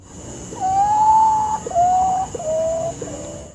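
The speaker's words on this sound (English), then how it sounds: "They are famous for their creepy calls, and there are 7 species of these Potu birds, and every species has its own creepy sound." A potoo bird gives its eerie call, three or four drawn-out, mournful whistled notes, each slightly lower than the last. The calls are loud and close over a steady background hiss.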